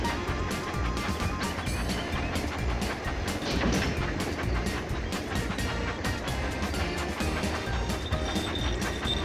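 Steady clattering rumble of a toy train running on tracks in the Thomas & Friends Magic Tracks mobile game, continuous and fairly loud with repeated clicking rail noise throughout.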